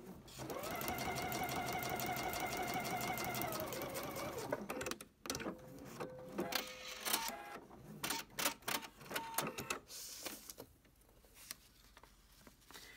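A sewing machine stitches fabric for paper piecing in a fast, steady run of mechanical clatter for about four seconds, then stops and restarts in short bursts, up close and without talk.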